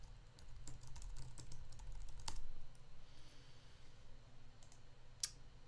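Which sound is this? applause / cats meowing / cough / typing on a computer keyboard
typing on a computer keyboard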